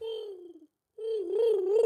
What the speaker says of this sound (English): That pigeon lands or touches that microphone and makes all that lovely noise for me to edit out